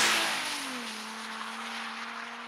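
A 2010 Nissan 370Z sports car drives on snowy roads, its engine note dropping then settling into a steady moderate hum with a brief rush of noise at the start.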